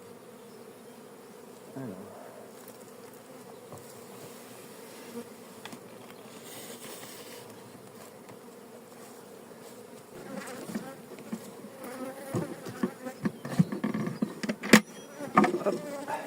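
Honey bees buzz steadily around a beehive during a hive change, a dense close drone that grows busier toward the end with handling knocks, and a voice speaks briefly.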